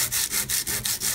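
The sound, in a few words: sanding rough edges of a junk journal cover with sandpaper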